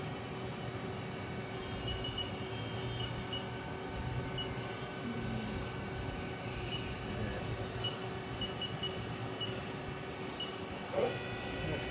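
Haas VF-2 CNC vertical machining center from 2012 with its spindle turning at 2,000 RPM, a faint, steady mechanical hum with a fixed tonal whine and low machine drone, unchanging throughout.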